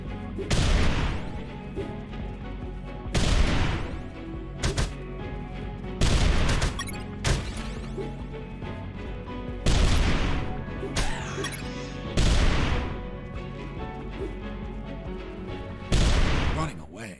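Explosions and bursts of gunfire from a grenade fight in the video game Unmetal, loud booming blasts recurring every couple of seconds over a continuous game soundscape.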